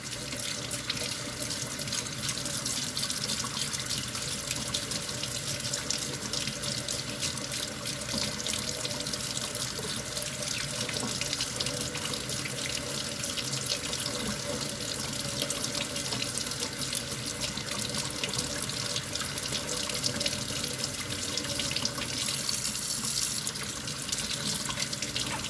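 Running tap water pours steadily throughout while a 1:100 scale Concorde model is wet sanded beneath it, a constant broadband splashing wash with no speech.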